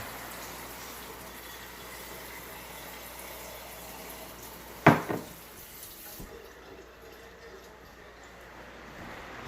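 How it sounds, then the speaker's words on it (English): Water is added to a pot of cooking greens: a quiet bubbling hiss, then a sudden splash midway that fades into gentle simmering. "I need to add a little bit more water."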